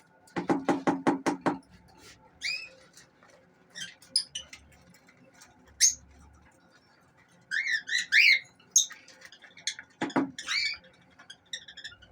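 Lovebirds chirp and whistle in scattered bursts in a bird room, with a quick run of tapping knocks at the start and quieter stretches between calls.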